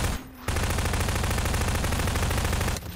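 Sustained rapid automatic gunfire in a video game, a dense loud burst lasting over two seconds after a brief gap, close and continuous.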